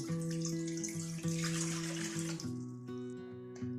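Water pours steadily from a tap into a vessel, a continuous splashing hiss over a faint sustained hum.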